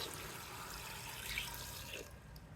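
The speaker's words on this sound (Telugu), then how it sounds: "ఇప్పుడు కాచి చల్లారి పెట్టిన నీళ్లు పోసేయండి సరిపడా మునిగేటట్టు" Boiled and cooled water poured over gooseberries in a container, a faint steady trickle and splash lasting a couple of seconds, heard alone at low volume.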